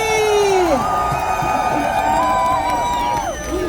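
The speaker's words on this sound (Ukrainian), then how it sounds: "Плескаємо голосно і гріємо ручки!" A crowd at a cold outdoor rally in Montréal marking one year of Ukraine's resistance cheers and whoops loudly, with shouting and high-pitched voices rising and falling over a dense, continuous roar.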